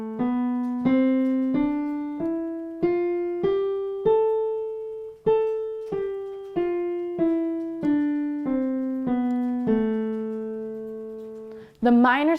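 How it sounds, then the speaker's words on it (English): A minor scale played note by note, rising then falling, each tone evenly spaced and sustained with a clean decay, close and clear, followed by a brief noise at the end. "Let's take a listen to the minor scale."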